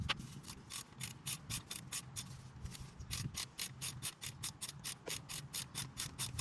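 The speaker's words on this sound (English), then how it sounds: "Now we're going to tighten it with the wrench." A wrench ratchets in quick, repeated clicking strokes while tightening the transmission fluid plug on a 2002 Jeep Wrangler, heard close and fairly quiet with short pauses between bursts.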